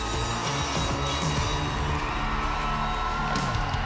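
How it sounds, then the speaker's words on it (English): A sellout crowd packs a basketball arena in St. Louis for a women's national championship game, roaring and whooping in a loud, steady wall of cheering with scattered yells throughout. "A sellout crowd awaits here in St. Louis on championship night."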